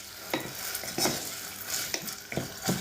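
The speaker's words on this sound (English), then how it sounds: "So yeah, that's got to fry up." Pancetta frying in a pan, a steady sizzle broken by repeated stirring clatters and utensil knocks against the pan, close and moderately loud, no talk.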